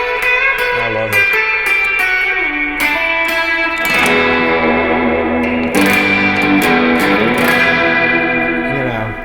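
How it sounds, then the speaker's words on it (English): An electric guitar rings out through heavy reverb, sustained chords and notes washing into long echoing tails with a slightly distorted edge, played loud and close. "that's a lot of reverb"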